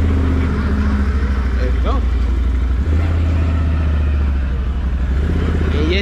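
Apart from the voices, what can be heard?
Can-Am Renegade 570 XMR ATV engine starting and running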